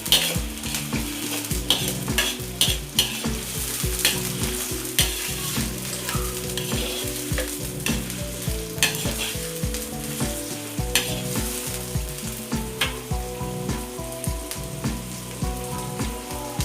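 Onions sizzling and frying in hot ghee in a pan, a dense continuous crackle broken by frequent scraping and clinking of a stirring utensil, close and loud without speech.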